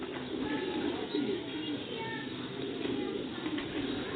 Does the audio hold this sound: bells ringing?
no